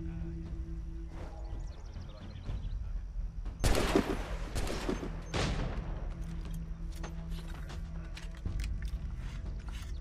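Musket and rifle gunfire in Assassin's Creed 3, a loud volley crack with echoing rumble followed by another burst, then scattered smaller clicks and reports over a low ambient drone.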